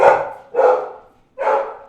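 Three loud, close dog barks ring out in quick succession, each a sharp bark with a short gap before the last.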